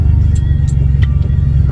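Road traffic in Riyadh with passing cars, a continuous loud low rumble of engines and tyres heard from close by, with a few faint higher clicks on top and no voices over it.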